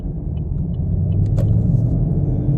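A 2023 Chevrolet Camaro with the LT1 V8 accelerating, its engine and exhaust giving a steady, loud low rumble that builds slightly across the stretch, with a few faint crackles near the start.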